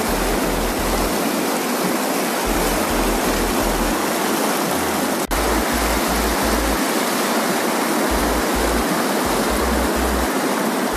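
Cold water of the Baspa river rushes past at Chitkul village, a steady, loud, close broadband roar that never lets up, with no voices.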